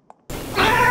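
A cat meows once in the video game Fran Bow, a short, clear, close call that follows a faint tick.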